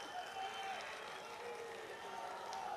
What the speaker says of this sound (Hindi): एक बार अपने लिए जोरदार तालियां बजाइए साथियों